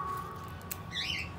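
Pet birds squawk in a home, a couple of sharp, scratchy calls standing out above a low steady background hum, fairly faint and with no voices.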